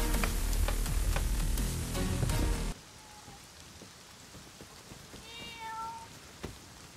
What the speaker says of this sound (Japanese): なんだ猫か